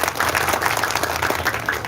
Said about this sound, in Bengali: আমি সবার কাছ থেকে একটা জোরে করতালি আশা করছি